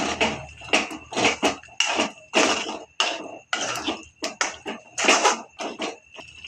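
A spoon scraping and clanking in a pan while ground paste is stirred into palak chicken, a rhythmic series of metallic knocks and scrapes, close and clear with short pauses between strokes.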